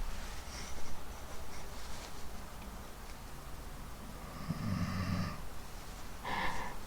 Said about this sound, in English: Alexa is snoring terribly.